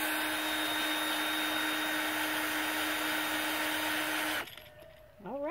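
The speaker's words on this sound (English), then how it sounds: "he's gonna insert that into the drill and tighten that up on the drill" A battery-powered handheld drill whirs at a steady high pitch, spinning a homemade chicken plucker for several seconds, then cuts off and winds down with a falling whine.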